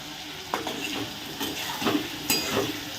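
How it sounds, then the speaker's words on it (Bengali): A large batch of potatoes fries in a pan, cooked in wedding-feast quantity. A steady sizzle runs under repeated scraping and stirring strokes from a utensil against the pan, with no talking. "এই যে পুরো বিয়ে বাড়ির মতন আলু ভাজছি"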